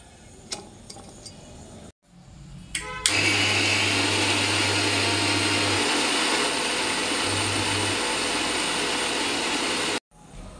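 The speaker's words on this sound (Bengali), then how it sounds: "তো চলো এটাকে এবার বেটে নিই" An electric blender grinds soaked masoor and moong dal into paste with a loud, even whirring roar that runs for about seven seconds before cutting off, after a few faint clicks and handling sounds.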